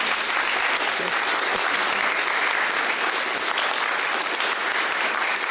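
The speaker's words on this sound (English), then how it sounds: "you can clap." Audience at a summer student festival clapping for the backstage crew, a loud, dense, steady round of applause from many hands lasting several seconds without letting up.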